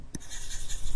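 A marker draws dots on a surface, with short scratchy strokes and a brief tap near the start. Faint, close and continuous, with no talking.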